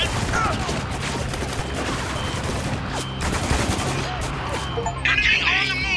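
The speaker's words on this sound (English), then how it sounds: "We're under heavy fire back here." Dense bursts of rapid gunfire in the video game Spec Ops: The Line, a heavy fusillade of overlapping shots that runs throughout, loud and close, with a sharper burst near the end and voices faintly mixed in.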